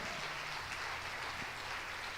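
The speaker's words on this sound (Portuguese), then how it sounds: "Você pode aplaudir ao Senhor." Congregation clapping at the close of a church service, a quiet, steady wash of applause heard from a distance over a low hum, lasting a couple of seconds.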